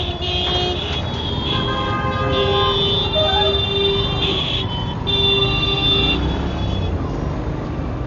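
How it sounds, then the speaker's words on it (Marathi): Car and bus horns honk repeatedly in busy road traffic, with several overlapping toots of different pitches over a constant engine and road rumble, some close and loud. "एवढं हॉर्न वाजवत होते"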